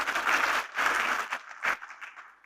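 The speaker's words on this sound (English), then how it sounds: "A huge round of applause, please." Audience applause at a film premiere for Dr. Rajesh Malhotra, a short burst of crowd clapping in a hall that swells, dips and trails off within a couple of seconds.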